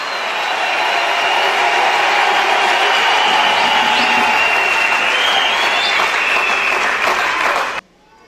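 A church congregation applauding in acclamation during a sermon on fasting, a loud, sustained wash of clapping with some cheering voices that cuts off abruptly near the end.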